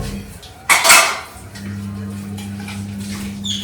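Metal clanks sharply against metal once, followed by a steady low hum and light scrubbing sounds, as if a pail is handled in a sink.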